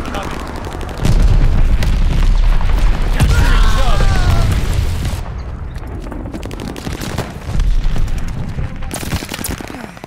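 Glide bomb explosion in the video game Call of Duty Vanguard: a loud, deep booming blast that rolls on for several seconds, mixed with scattered gunfire and battle noise.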